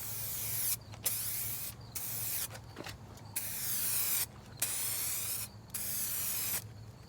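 A spray can lays a light coat onto a car headlight in a series of close, sustained hissing bursts separated by short pauses, about seven bursts in all.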